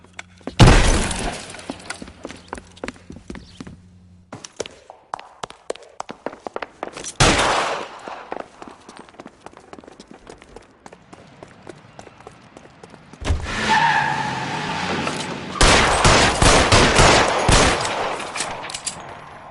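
Gunfire breaks out during a robbery shootout in L.A. Noire, sharp single shots and rapid bursts with shattering glass, sparse cracks in the middle, then dense loud volleys toward the end.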